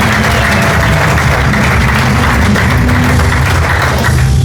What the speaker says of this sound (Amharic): ለእግዚአብሔር ክብር አጨብጭቡለት እስቲ።